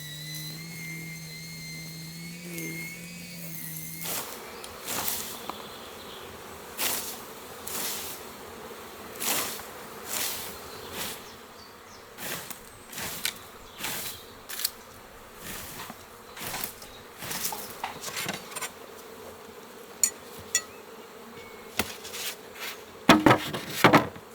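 Honey bees buzz steadily near hives, broken by a run of sharp scraping and knocking bursts that come in irregular clusters.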